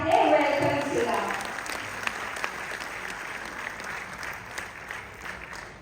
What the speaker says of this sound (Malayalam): നിങ്ങളുടെ കയ്യടികളോടെ നമുക്ക് അശ്വതി ശ്രീകാന്തിനെ വെൽക്കം ചെയ്യാം.